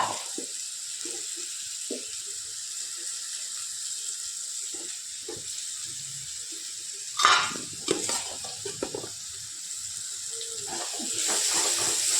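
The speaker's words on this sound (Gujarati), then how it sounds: "અને આપણે જે ફ્રાય કરીને રાખ્યો તો કંટોલા રાખ્યા હતા, હવે આપણે એમ એડ કરતા જઈએ." Fried spiny gourd added into a hot onion-tomato tempering, a soft steady sizzle and hiss with a couple of louder spatters and stirring clatters partway through.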